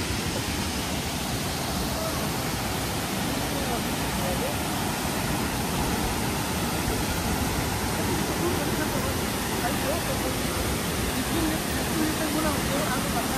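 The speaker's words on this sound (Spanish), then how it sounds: "Si escuchan el sonido del agua" The Cascada las Brisas waterfall in Cuetzalan, Mexico, heard from below as a loud, unbroken roar of falling water that fills the whole clip at a steady level.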